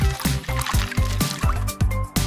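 A fruit lollipop on a stick gets a quick rinse in water, giving repeated short sloshing dips in a regular rhythm, close and fairly loud, each burst breaking off abruptly before the next.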